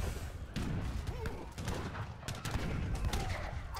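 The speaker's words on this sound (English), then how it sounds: "We have the cannons here." Cannons fire during an Age of Empires III battle, with repeated heavy booms and crackling blasts landing in quick, irregular succession over a dense, constant din of combat.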